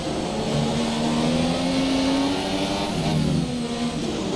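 Onboard engine of a McLaren Formula 2 car in the racing game F1 2017 at Abu Dhabi, a steady loud high-revving drone that shifts pitch as the car accelerates and lifts, heard alone.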